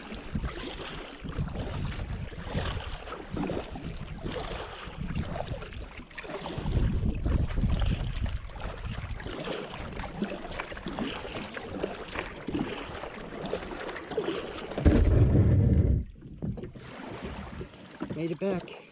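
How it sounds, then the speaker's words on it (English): Small craft paddled across choppy, wind-whipped water toward a boat dock, with steady broadband wind buffeting the microphone and water sloshing throughout, a louder surge of splashing and gusts near the end before things briefly quiet. "Wind's picking up, so it's getting pretty wavy out here."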